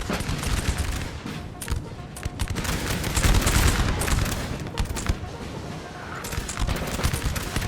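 Massed musket volleys crackle continuously in the video game Napoleon Total War during a multiplayer battle with Austrians and French, dense overlapping gunfire rolling loud throughout with a voice talking over it.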